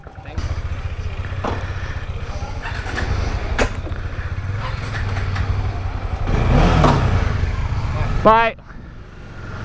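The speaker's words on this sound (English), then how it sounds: "Oh, he stalled his bike." Motorcycle revving in a busy bike-market alley, a close rough engine drone building louder before cutting out abruptly in a stall, with people talking nearby.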